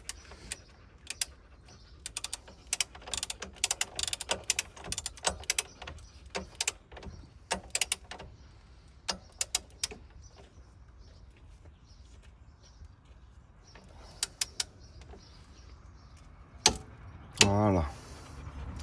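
A torque wrench set to 7.5 clicks and ratchets in bursts of sharp metallic ticks while tightening front wheel bearing bolts on a Citroën C5 or Peugeot 407, followed by quieter gaps and a few clanks near the end, with someone talking at times.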